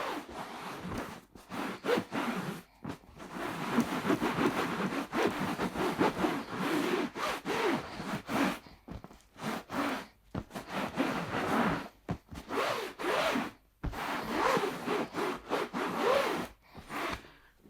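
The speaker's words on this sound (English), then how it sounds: "grab a clean, well not a clean, but a damp rag and just wipe all of that chalk dust off clean" Repeated rubbing and scrubbing strokes of a damp rag wiping chalk dust off a painted couch, rhythmic swishes with brief pauses between passes, close and fairly loud.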